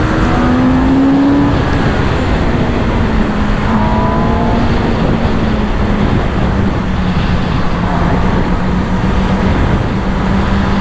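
A loud, continuous engine howl from a 2022 Kawasaki ZX10R and Z900 at a drag race, revving and climbing through gears with rising and falling pitch sweeps, close and without pause.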